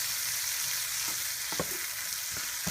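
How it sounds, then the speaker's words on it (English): Vegetables including broccoli stirred with marinara in a pan, a steady sizzle underneath and a few scraping spoon strokes cutting through near the end; no talking. "I will add the marinara. And I'm just going to stir this vegetables up a little bit."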